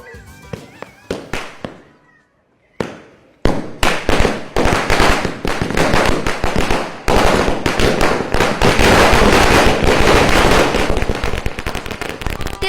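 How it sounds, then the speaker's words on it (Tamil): Diwali firecrackers bursting in Chennai streets, loud dense rapid cracks and bangs rolling in long chains, with brief pauses and continuous crackling bursts close by. "சிறுவர்களும் பெரியவர்களும் ஆர்வமுடன் பட்டாசு வெடித்து உற்சாகமாக தீபாவளியை கொண்டாடினர்."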